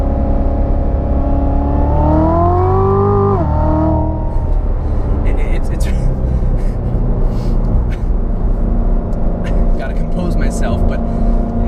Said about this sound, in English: you floor it for a second and a half, and you're already at the speed limit